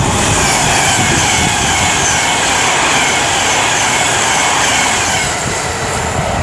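A train passes at Lichfield Trent Valley station, a loud, continuous roar of wheels and rushing air with a faint high squeal, steady throughout and close by.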